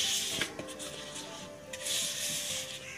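A spatula stirs cake batter for a white forest cake as a milk and dry-ingredient mixture is worked in a little at a time. The soft, close, continuous scraping and swishing is heard without any voice.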